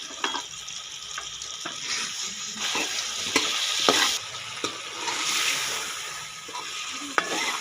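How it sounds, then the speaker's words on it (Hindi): Potatoes and tomatoes frying with spice masala (turmeric, red chili, salt) in a pan, a steady close sizzle with scraping stirs and occasional spoon clinks against the pot, no talking. "आलू और का मसाला तकरीबन भून चुका है।"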